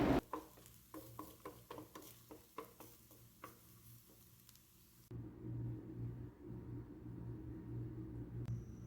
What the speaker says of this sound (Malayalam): ദാ ഈ ഒരു പാകമാകുന്നത് വരെ വഴറ്റി കൊടുക്കുക